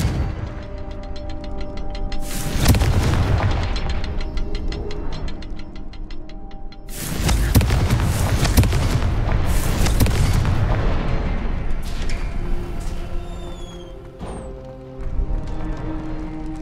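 Confringo fire spells blast in the Hogwarts Legacy game, booming explosions around 2.5 and 7 seconds with further bursts near 9.5 seconds, over steady game ambience.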